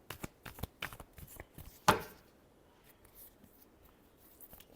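Tarot cards are shuffled by hand, a quick run of soft close riffling clicks followed by one sharper slap as the deck settles, then near quiet.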